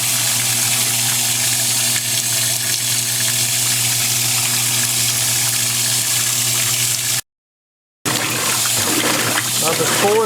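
A high-efficiency clothes washing machine in auto mode fills with water for towels, a steady gushing, pumping rush that runs on loudly, breaks off briefly, then resumes with some clatter.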